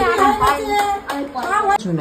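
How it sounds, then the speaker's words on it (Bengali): A few hand claps at home between a father and young daughter, sounding under a voice and a child's chatter. "হাততালি সবাই, হাততালি দাও"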